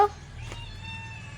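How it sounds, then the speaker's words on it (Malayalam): A cat meowing, a single close, clear drawn-out meow with a tonal, slightly wavering cry that trails off, heard after a brief opening noise. "അഞ്ചാറ് പൂച്ചക്കുട്ടികളും ഉണ്ടാവും"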